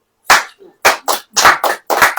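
A church congregation claps together during a sermon, with a handful of sharp, loud, uneven bursts of hand claps close by and no talking.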